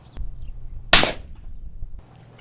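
A single 9mm shot through an Exigent Defense Pointman9 suppressor, heard without ear protection: one sharp, loud crack with a short trailing decay, then quiet.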